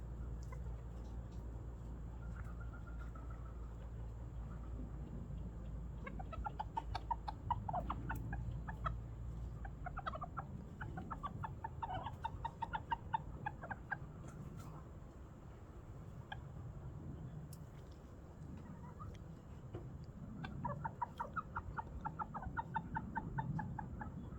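Bantam chickens cluck steadily throughout, with repeated short bursts of clucking and a low background rumble, fairly close and continuous.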